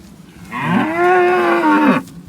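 A single long, loud moo from a cow close by in a paddock on an Irish farm, rising and holding before it fades, with no other voices.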